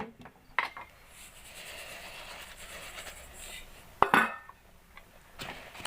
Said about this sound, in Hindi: अब इसके अंदर हम तिल डाल देते हैं।